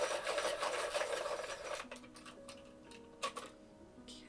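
Colored pencils being sharpened at close range, a gritty rasping grind for a couple of seconds, then fainter ticks and scrapes.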